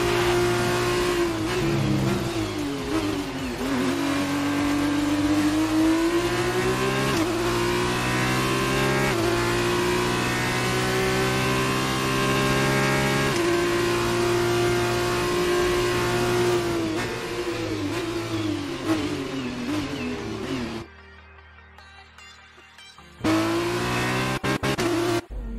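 Race car in the F1 2019 video game on its final lap, engine revving loudly and continuously with rising and falling pitch through gear changes, a brief near-silent gap before the high whine resumes.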